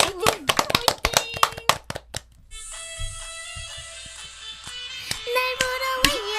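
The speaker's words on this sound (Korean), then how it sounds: "루미니 친구분들이랑 다 똑같이 큰 박수 치면서" An audience at a Korean TV show claps in quick rhythmic beats along to a live performance of a song, with the clapping crisp and prominent before sustained sung and instrumental tones take over.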